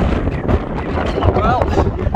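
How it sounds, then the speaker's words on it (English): Strong wind buffets the microphone on a Scottish Highlands mountain summit above Loch Etive in whiteout conditions, a loud continuous roaring rush with faint voice underneath. "Still lots of wind."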